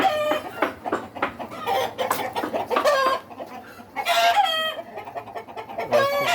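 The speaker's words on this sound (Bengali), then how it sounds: "প্যারেন্টস মোরগ" Farm chickens and roosters cluck steadily and crow in loud, overlapping bursts close by, with no talking.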